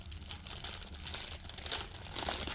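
Plastic packaging around a small pair of scissors crinkles and crackles in quiet, irregular bursts, faint and close, with no voices.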